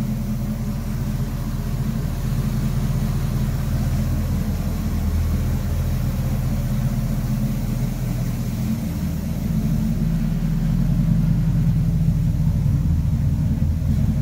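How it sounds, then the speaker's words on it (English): A 1965 Oldsmobile Cutlass F-85 sports coupe engine idles through dual exhaust, giving a steady, deep, close rumble that holds even throughout with no talking. "Got a nice rumble to it."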